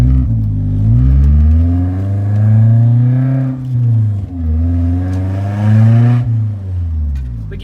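A BMW E36 fitted with a short 4.44 differential accelerates hard through the gears, its engine note rising and dropping with each quick shift, loud and close throughout with no talking.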